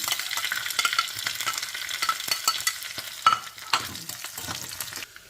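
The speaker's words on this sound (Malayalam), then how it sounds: "ഇത്രയും സാധനം കൂടെ ഇട്ട് നമ്മൾ ഒന്ന് വഴറ്റിയെടുക്കണം" Shallots, curry leaves and red chili sautéed in a pan over popped mustard seeds, with a steady close sizzle broken by stirring scrapes and clinks, no voices.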